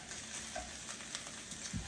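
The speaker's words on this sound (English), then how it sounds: "getting it in our pan and gonna let it start pan frying up" Cabbage pan frying gives a steady, quiet, crackling sizzle with soft pops, close by and continuous, with no one talking.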